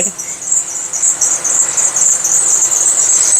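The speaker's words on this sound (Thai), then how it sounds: "อาการที่สอง สายพานน่าจะย่อนนะครับหรือไม่ก็หมดสภาพนะครับ" A steady, shrill high-pitched squeal from a loose or worn engine drive belt on a Honda car runs continuously, fairly loud, with faint low engine rumble beneath.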